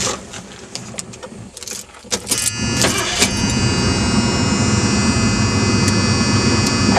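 A 1978 Mercury Grand Marquis V8 catches after a few clicks and settles into a loud, steady, even idle close by, running smoothly after a new ignition coil and module.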